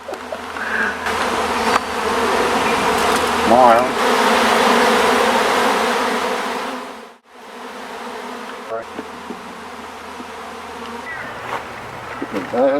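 Bees swarm around a beekeeper's hive in a dense, steady buzz that lasts throughout, with individual insects droning past close by and a brief spoken word over it.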